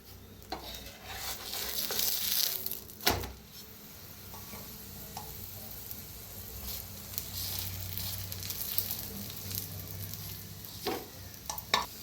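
Paneer paratha roasting in oil on a pan, a steady soft sizzle running throughout with a few sharper clicks and scrapes from turning it, fairly close and alone without talk.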